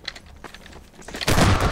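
Double-barrel shotgun fire in the video game Half-Life 2: faint clatter and small impacts come first, then a loud, close blast that leaves a dense, roaring burst of noise lasting to the end.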